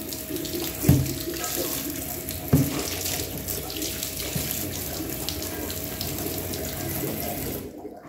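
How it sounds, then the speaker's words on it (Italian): Tap water runs steadily into a sink as stainless steel is rinsed, a continuous close splashing stream with a couple of brief clunks near the start, then it cuts off at the end. "passo una spugna e risciacquo"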